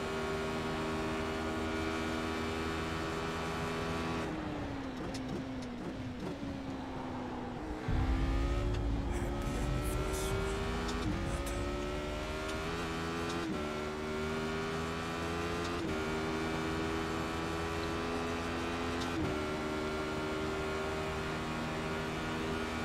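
Race car engine in the iRacing sim, a Radical on a hilly circuit, revving loud and close with rising and falling pitch through gear changes and acceleration, heard alone without talk.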